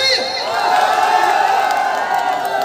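A crowd cheers and whoops loudly at a public event with a Punjabi singer, a sustained roar of voices with some applause mixed in and shouting close by.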